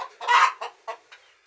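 Chickens clucking beside a simple chicken house in rural Kenya: a short run of four or five close, clear clucks, the first loudest, then fading, with quiet between them.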